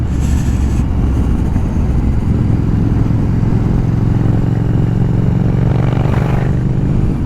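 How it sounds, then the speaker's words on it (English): A loud motorcycle engine with the exhaust baffle removed runs close by with a deep, raspy exhaust rumble, steady throughout with slight surges. "I've taken the baffle out of the exhaust"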